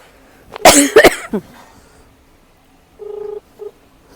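A few coughs followed by short electronic keypad tones, like a phone number being dialed.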